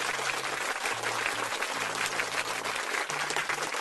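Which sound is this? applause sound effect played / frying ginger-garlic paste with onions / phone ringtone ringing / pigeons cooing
applause sound effect played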